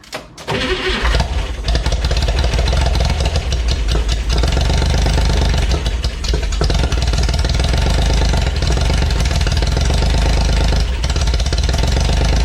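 A Corvair engine with a new fuel pump catches almost at once and runs loud and rough, with a steady, knocking idle close by and no talk.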